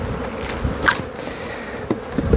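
Honey bees buzz around a hive on the coast during swarm creation, a close, continuous droning hum with a few sharper passes of individual bees near the microphone.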